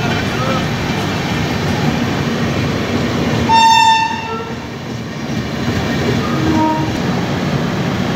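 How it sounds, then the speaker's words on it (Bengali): The Ajmer Superfast Express rolls into a station amid a steady rumble of rail noise. A long, loud train horn sounds midway, rising over the clatter of the wagons. "দেখো এই ঢুকছে আজমির সুপারফাস্ট এক্সপ্রেস।"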